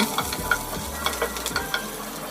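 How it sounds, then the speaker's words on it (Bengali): Chopped onions and slit green chilies are stirred in hot oil for a potato and fish-head dish, giving sizzling under repeated scraping strokes of a spatula, close and fairly loud. "গরম তেলের মধ্যে দিয়ে দিলাম কুচি করে রাখা পেঁয়াজ কুচি আর ফালি করা কাঁচামরিচ এখন সবগুলো নেড়ে চেড়ে পেঁয়াজগুলো লালচে কালার করে নিব"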